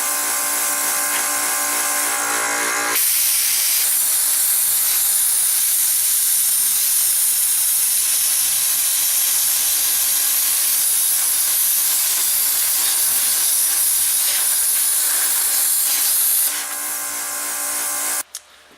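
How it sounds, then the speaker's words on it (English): A plasma cutter slices through 14 gauge steel, a loud steady hissing roar that starts abruptly, holds continuously for about fourteen seconds, then cuts off. "we're going to go ahead and cut these out with a plasma cutter"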